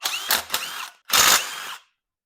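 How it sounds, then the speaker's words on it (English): A differential cover being pried off a Jeep XJ axle: two short harsh metallic bursts, then a longer loud scraping rasp, close and alone. "Now I'm going to rip this diff cover off real quick."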